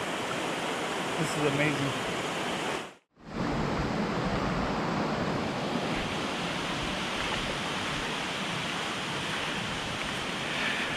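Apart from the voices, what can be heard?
stream flowing beside the campsite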